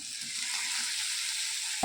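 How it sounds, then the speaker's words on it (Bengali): Spices with chopped tomato, coriander, cumin and dried chilli powder frying in a pan, giving a steady, close, bright sizzling hiss that holds evenly for about two seconds, ending with a small clink. "মশলাগুলো ভাজা হয়ে গিয়েছে এর ভিতরে দেবো ধনে জিরে আর শুকনো লঙ্কার গুঁড়ো একটা কুচানো টমেটো"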